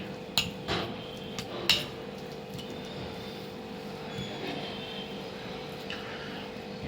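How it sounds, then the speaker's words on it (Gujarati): Garlic being mixed in a bowl for a Surti-style garlic dish, a few sharp metallic clinks of a spoon against the bowl early on, then soft scraping over a steady low background hum. "ને હું બરાબર મિક્સ કરી લઈશ લસણને"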